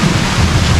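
Rain falling in a jungle, a steady, dense wash of hiss and patter that stays fairly loud and even throughout, with no voices.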